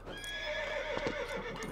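In the video game Lego Indiana Jones, a horse gives one loud whinny that carries through continuous game background sound, with faint hoof clopping and no talking.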